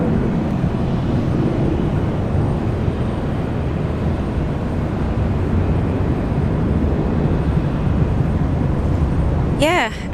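A Virgin Australia Boeing 737-700 airliner roars past at Brisbane International Airport, a broad, steady jet rumble that stays loud for the whole stretch, with a brief chirp near the end.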